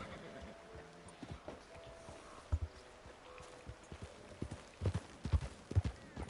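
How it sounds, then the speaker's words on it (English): Horses walked by riders in Red Dead Redemption 2 clip-clop with soft, irregular hoof knocks that grow a little stronger toward the end, faint and fairly close over quiet ambience. "they're walking their horses across"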